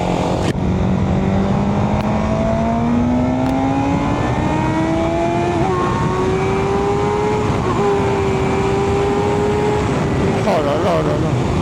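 An MV Agusta motorcycle with a 200 hp engine, heard while being ridden: a loud, steady engine whine climbing slowly in pitch as it pulls hard, over constant wind rush.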